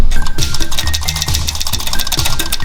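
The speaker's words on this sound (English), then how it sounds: "Do you have a rattle noise coming from your engine?" Rapid metallic rattling and clattering from a McLaren's broken driveline dampener spring while the engine runs, loud and continuous with a rough, uneven rhythm.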